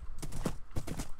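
Horse hooves clip-clopping in a video game, a quick run of light, evenly spaced thuds heard faintly and briefly.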